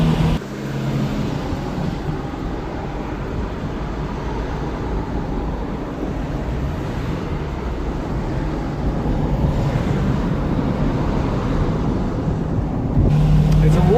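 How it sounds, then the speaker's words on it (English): A steady low V8 engine rumble from inside a running 1972 Mercedes-Benz 350 SLC, constant and fairly loud, swelling slightly near the end. "the V8 sound, isn't it marvelous?"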